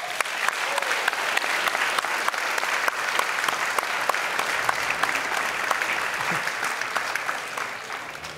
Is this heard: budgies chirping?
no